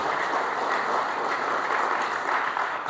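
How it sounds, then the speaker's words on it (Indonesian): A church congregation claps together during a service, a dense, steady wash of applause that holds loud and even from start to finish with no break. "Tepuk tangan yang terbaik dulu buat Tuhan Yesus Kristus."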